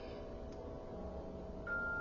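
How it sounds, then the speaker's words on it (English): A phone notification goes off near the end as a short, clear electronic tone that rises over a quiet, humming room background, with no one talking. "Okay, SERA, excuse the notification. I thought I had turned that shit off"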